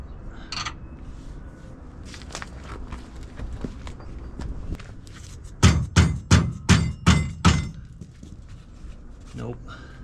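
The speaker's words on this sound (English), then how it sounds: "That's where our hammer comes in handy." Hammer striking a Toyota Tacoma suspension part during a leaf spring upgrade: six sharp metallic blows in quick, even succession, close and loud, with a few scattered clanks and talk around them.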